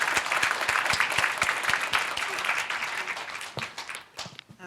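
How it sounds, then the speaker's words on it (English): Enthusiastic applause follows an annual arbitration lecture in a hall, with individual sharp claps standing out from the crowd's steady clapping before it thins and fades toward the end. "please join me in giving Professor Kaufmann-Kohler a round of applause"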